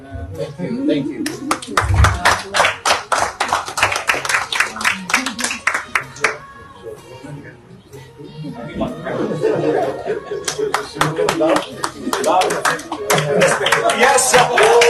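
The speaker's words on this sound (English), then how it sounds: "we will give him a round of applause" An audience claps for a government minister at a formal ceremony, with close, sharp handclaps in bursts, laughter and chatter mixed in, a lull midway, then more clapping under voices.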